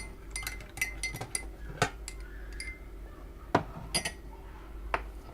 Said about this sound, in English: I'm going to add the sugar to that one and a little bit to that one.